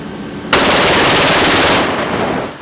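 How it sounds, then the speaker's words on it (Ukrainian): A shipboard naval artillery mount fires during a maritime exercise: a loud, dense burst of rapid rounds starts abruptly, runs for over a second, then cuts off and leaves a fading echo over the sea. "Артилерійська установка вражає ціль на відстані 4 кілометрів зі швидкістю 3 тисячі пострілів за хвилину"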